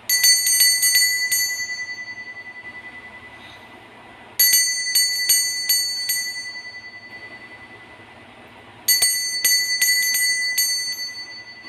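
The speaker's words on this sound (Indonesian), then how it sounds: "kita akan mulai saja dengan ditandai lonceng berbunyi" A bell rings out in three separate bursts of rapid bright strikes, each burst ringing clearly and fading away before the next begins, with no talking.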